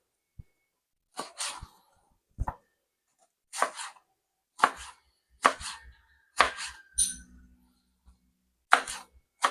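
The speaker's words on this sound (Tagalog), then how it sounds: "Iwain na rin ito natin sibuyas." Onion is sliced with a knife on a cutting board in sharp, separate chops at an uneven pace, each a crisp close tap, with short silences between strokes.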